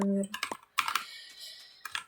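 Several quick clusters of close keyboard key clicks are heard in a gaming setup, with brief gaps and a faint tonal sound at the start.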